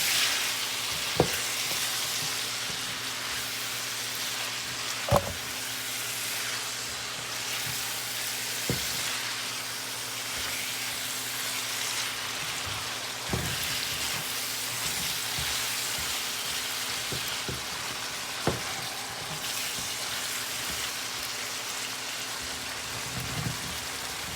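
Ackee and saltfish with seasoning sizzle and fry steadily in a pan, a soft continuous crackle broken by a few sharp clicks of stirring, close and alone.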